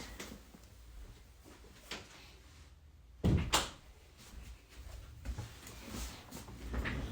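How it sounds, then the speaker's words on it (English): A bedroom door is shut once partway through, a sharp close thump standing out against a quiet room with faint background noise before and after. "I'm going to close my door really quick."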